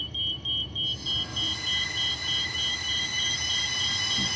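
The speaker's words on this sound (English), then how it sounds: "And we have yet another train on this track now." At McIver Station, a train arrives on the track with a loud, sustained metallic wheel squeal and a steady rumble. No one is talking.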